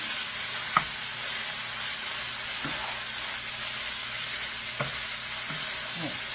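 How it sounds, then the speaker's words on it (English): Pineapple chunks fry in a pan for a sticky pineapple chicken dish, giving a steady, fairly loud sizzle with a few brief knocks of a utensil stirring against the pan. No one speaks. "going to add my pineapples in. And I'm going to cook this for about a minute."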